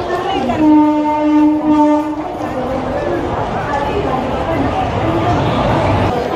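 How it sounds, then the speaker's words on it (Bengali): A train sounds a long, droning horn for a couple of seconds, then rolls into a crowded Mumbai railway platform with a steady rumble beneath loud crowd noise and chatter. "সামনে ট্রেন আসছে"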